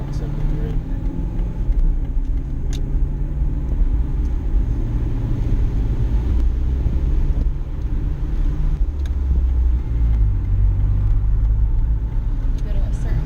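An Aston Martin car drives along a road, its engine and tyre rumble forming a steady low drone throughout, with people talking inside the cabin over it.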